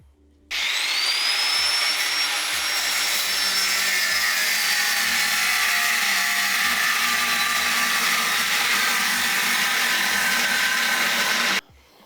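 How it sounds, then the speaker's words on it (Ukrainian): A power tool cuts off a broken stud in a car cylinder head with a loud, steady whining grind. It starts abruptly, holds a high ringing tone for about eleven seconds, then stops, with faint tapping underneath. "Зрізали ми ще одну шпильку."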